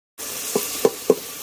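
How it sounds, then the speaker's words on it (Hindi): Onion and spice masala frying in a pan, a steady close sizzle broken by three soft stirring thumps from a spoon. "तो जी ये देखिए मसाला हो रहा है प्याज"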